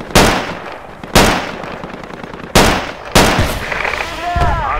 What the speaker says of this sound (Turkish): Kim roket attı?